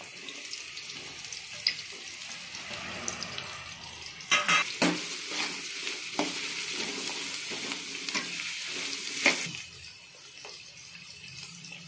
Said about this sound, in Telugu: ఆయిల్ వేడెక్కాక ఆనియన్స్ వేసుకున్నాము.